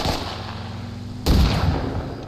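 Gunfire and a grenade blast in the military shooter game Arma Reforger, a low rumble of distant shots, then a sudden loud explosion that leaves a fading boom.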